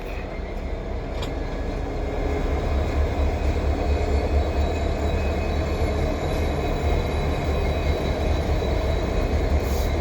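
A CN freight train led by SD75i and SD70M-2 locomotives rolls past on a snowy winter day hauling tank cars, a loud steady rumble of wheels and cars with faint metallic squeals over it.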